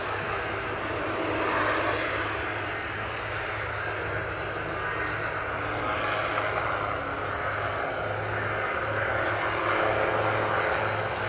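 A Rotorsport UK Calidus gyroplane flies at the Duxford Summer Airshow, its engine and rotor giving a steady, moderately loud drone that holds throughout with slight swells in level.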